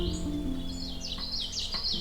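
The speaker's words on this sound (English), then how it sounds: "The common yellowthroat is a loud and lively warbler found along the edges of marshes and wetlands." A common yellowthroat warbler sings at a marsh pond edge, a quick series of bright chirping notes over a steady low hum and background drone.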